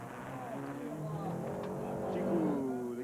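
Rally race cars, including a Mercedes, roar along a dirt track, engines revving and rising in pitch as they pass, with sustained loud mechanical drone throughout.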